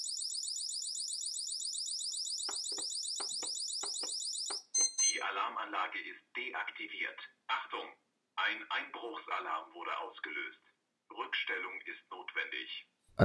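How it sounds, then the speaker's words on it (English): A shrill, rapidly pulsing electronic siren from a wireless alarm system sounds for several seconds with clicks beneath it, then stops and a person talks at length. "An alarm was triggered, thus we have to manually reset the wireless alarm system."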